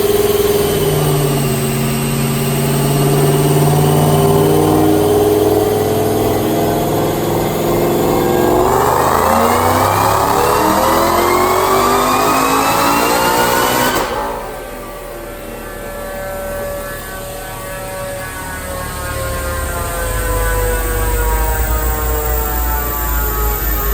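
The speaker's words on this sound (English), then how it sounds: "I'm gonna make a dyno pull." A supercharged 2013 Mustang fitted with a Whipple supercharger screams through a dyno pull, loud and close, its pitch rising steadily to a peak and then the engine dropping back to a lower rumble as the pull ends.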